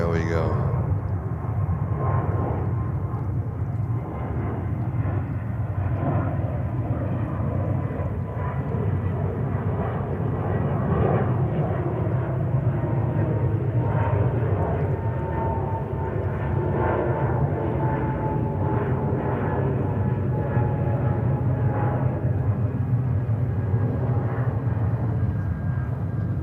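A jet airliner roars down the runway on takeoff at JFK airport, a steady loud engine rumble sustained throughout, with radio chatter and a voice talking over it.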